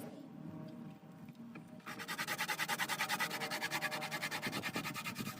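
Quiet background rustle, then a rhythmic, rapid scraping and sanding of paint for a hairspray and salt chipping weathering effect starts and continues steadily, close and dry.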